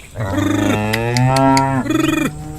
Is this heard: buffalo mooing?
yes